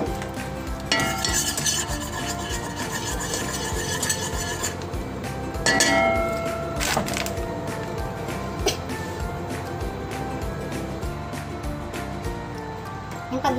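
Oil heating and sautéing in a cooking pot, with steady stirring, scraping and clinking of a utensil against the pot under a continuous soft sizzle.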